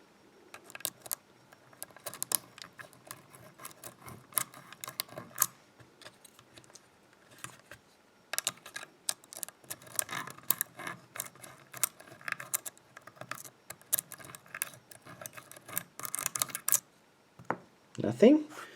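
A lock is picked with tension wrenches, giving faint, irregular metallic ticks and small clicks close by, scattered across the whole stretch with brief quiet gaps.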